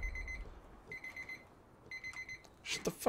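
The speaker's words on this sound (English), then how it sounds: "Shut the fuck up, timer." A timer alarm goes off in repeated bursts of high electronic beeping, about four rhythmic clusters spaced roughly a second apart, faint and close, with a brief rustle at the end and no speech.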